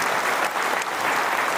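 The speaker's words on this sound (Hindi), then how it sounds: "मैं चाहता हूं कि एक जोरदार ताली मुरल ग्रुप ऑफ कंपनी की हो जाए" A large audience at a business conference in Shimla breaks into loud, dense applause, a sustained roar of clapping heard close and alone.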